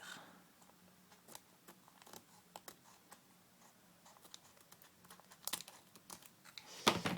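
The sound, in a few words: cutting open packaging with scissors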